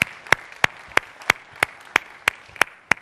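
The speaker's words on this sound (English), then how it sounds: "Give yourselves a round of applause" Slow, evenly spaced single hand claps ring out at a conference symposium, about ten sharp claps spread over three seconds rather than a full crowd ovation.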